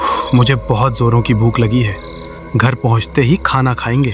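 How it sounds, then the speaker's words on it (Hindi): Crickets chirping in a forest at night, a steady thin high-pitched drone running faintly beneath people talking throughout. "झींगुरों की आवाज पूरे जंगल में गूंज रही थी।"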